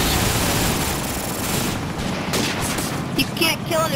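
Gunfire in the video game Call of Duty 4 during an online match: dense, loud bursts of rapid shots and booming noise fill the clip continuously, with a few sharper reports near the end.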